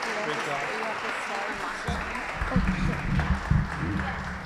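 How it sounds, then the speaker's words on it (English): An audience at a local community show applauds, with clapping building up midway and continuing under a speaking voice, moderately loud and close. "A big round of applause"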